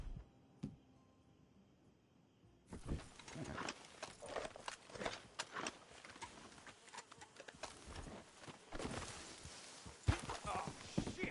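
Horse hooves clip-clop on the ground in the Western video game Red Dead Redemption 2, several irregular, fairly close steps starting after a quiet opening, with faint voices in the background.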